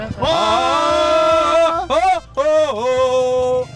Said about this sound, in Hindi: ये बकरा जो है हाँ। ये कोई आम बकरा नहीं है।